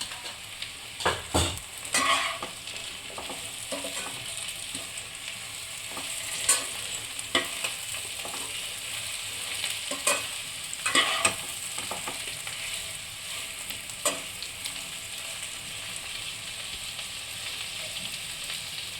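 Fried spice masala with Kashmiri chili powder sizzling in a pan for shukto, a steady close frying hiss broken by repeated scraping stirs, with no talk.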